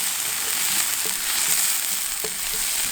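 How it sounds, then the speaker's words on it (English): Onions browning in a pan over an outdoor firepit make a loud, continuous close-up sizzle with a few soft stirring taps. "I'm just going to brown these onions off a little bit"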